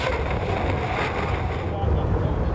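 Unlimited hydroplane racing powerboat at the Oryx Cup UIM World Championship running at full throttle, a loud rushing roar mixed with wind buffeting, heard at a distance with commentary layered over it.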